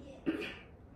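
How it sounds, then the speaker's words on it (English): A single short cough close to the mic, a quick burst followed by a brief rough tail, then quiet room tone. "I got a little cough"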